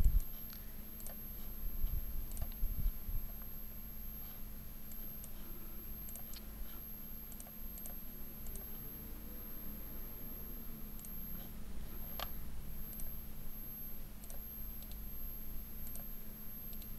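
Computer mouse clicks scattered sparsely through a quiet room, sharp faint ticks with long gaps between them, set against a low steady electrical hum.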